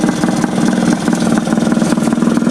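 Honda Dio scooter engine with a carburetor problem, running at a high idle: a steady, loud, even mechanical drone that holds without revving for the whole stretch, with no voices.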